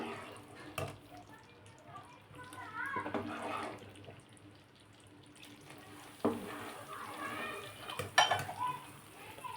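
Sugar syrup for Mysore pak is stirred in a pan, with soft scraping and bubbling under a quiet sizzle and occasional clinks of a spoon against the metal, close by.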